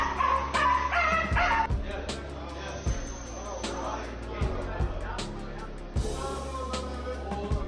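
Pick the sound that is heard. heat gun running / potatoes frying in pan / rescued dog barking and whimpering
rescued dog barking and whimpering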